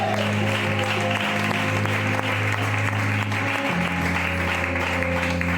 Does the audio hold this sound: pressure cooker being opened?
no